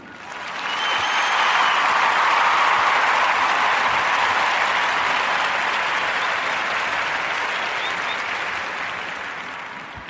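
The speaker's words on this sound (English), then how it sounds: "So, clap it up for Max McGee, backdoored his way into a gig." Steady applause from an audience, a dense wash of clapping that swells in quickly, holds for several seconds and slowly tapers, with no voices on top.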